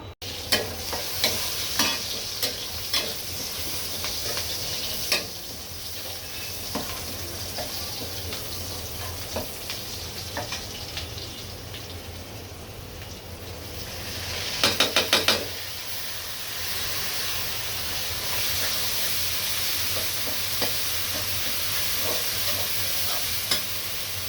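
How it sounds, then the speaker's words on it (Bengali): Onions frying in a pan while being stirred: a continuous loud sizzle with repeated scraping clicks from the spatula and a brief burst of sharper clatter midway. "পেঁয়াজটা হালকা বেরেস্তা করে নিব"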